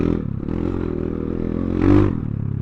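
A Kayo K2 230 motorcycle engine idles close by with a barky, rapid, throbbing pulse. It swells briefly with a blip of the throttle before settling back, and no voices are heard.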